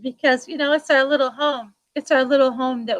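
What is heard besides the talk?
None of the usual background noises is heard.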